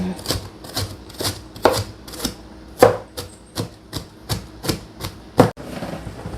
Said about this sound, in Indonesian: Kalau saya tuh agak tak rajang kayak gini loh teman-teman, supaya tambah miroso.